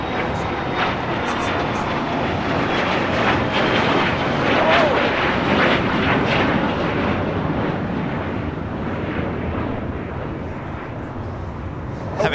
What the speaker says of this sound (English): Dreamliner taken off on the north side and 24 left